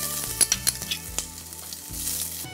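Asafoetida, red chili, fenugreek seeds and ginger hitting hot oil for a ripe mango kadhi, giving a close sharp sizzle with a few spattering pops at the start that settles into a softer hiss.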